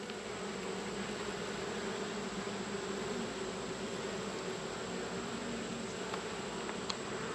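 A steady, quiet drone of many honeybees buzzing together at the hive, continuous and even throughout.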